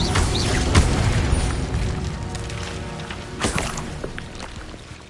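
The Incendio fire spell is cast in Hogwarts Legacy gameplay, a deep whooshing boom with rumbling fiery texture, a burst at the start and another flare around three and a half seconds, fading out.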